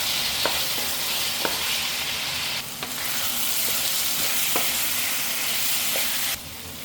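Carrots and corn fry in a pan with longganisa for fried rice, giving a steady close sizzle broken by several sharp clicks from stirring, with no talk.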